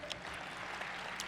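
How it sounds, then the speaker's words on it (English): Brief, fairly quiet applause from a conference audience at SXSW, a short even patter of many hands clapping across a hall. "a round of applause, please."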